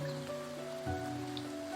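Steady rain in the video game Starbound, modded with Frackin' Universe, hisses continuously at moderate loudness beneath sustained tonal game music, with no voices.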